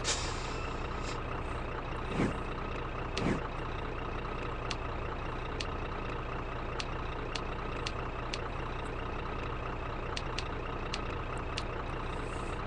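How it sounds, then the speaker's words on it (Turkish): A truck engine rumbles and idles in the Grand Truck Simulator video game, with a couple of short air-brake hisses early on and a run of faint, regular clicks or beeps over the steady drone. "Görüyorsunuz mesela e, motor freni falan var."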